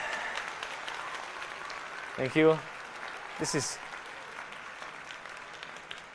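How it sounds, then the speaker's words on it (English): Audience applause at a gambling-industry awards ceremony, a steady wash of clapping from a crowd in a hall that continues under a presenter's brief spoken thanks. "is very pleasing to hear applaud"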